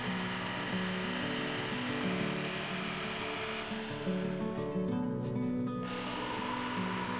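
A power tool cuts a circle into a clamped wooden board meant as a serving board, whining steadily and continuously at close range for the whole stretch with no talking.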